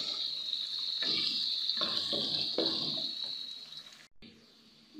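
Onions sizzling in hot oil with bay leaf, cinnamon and garlic, a steady hissing fry with a few clattering stirs, fading near the end after a brief cut.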